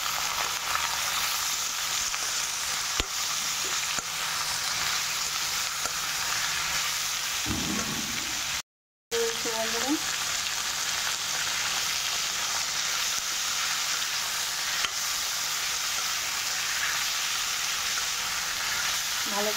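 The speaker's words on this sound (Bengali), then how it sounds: "ভালো করে কষিয়ে নেব।" Pointed gourd being sautéed with salt and turmeric in a pan, a steady loud sizzle running throughout with occasional stirring scrapes and a brief break midway.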